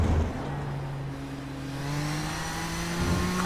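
Race cars accelerating around the Circuit of the Americas in iRacing, engine tones climbing steadily in pitch as cars pull away, loud and close, with no talk.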